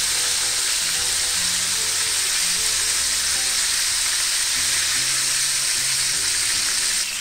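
Veal fries in hot oil in a pan for fricandó, a steady loud sizzle and crackle that holds evenly throughout. No one speaks.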